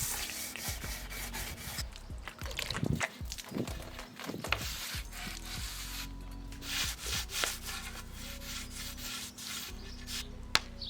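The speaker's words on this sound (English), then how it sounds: "So I've got this, and I've also got the sander." Power sander working on a sailboat hull, rough rubbing and grinding contact with a steady motor hum underneath, irregular passes and knocks as the sander is moved over the surface.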